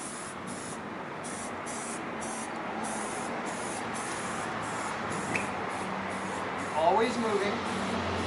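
Spray paint hisses from an aerosol can onto a capacitor as a long continuous spray with brief pauses, close and steady, while faint speech sits underneath.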